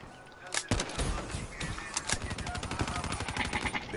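Rapid gunfire in Black Ops 3, with sharp single shots followed by dense bursts of automatic fire that rattle on in quick succession at moderate loudness.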